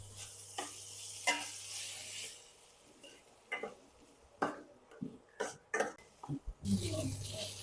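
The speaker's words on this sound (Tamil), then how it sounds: "ஆட் பண்ணிவிட்டு அப்படியே கொஞ்சம் கிண்டி விட்டுருக்க வேண்டியதான்." Beans, carrot and green peas are stirred in a frying pan, with soft sizzling broken by a string of sharp spoon clacks and scrapes against the pan, close and fairly quiet.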